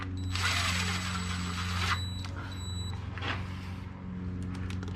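Power tool tightening twin-disc ceramic clutch bolts in a torquing sequence, a bright whirring drive burst of about two seconds followed by a shorter one, over a steady low engine-bay hum.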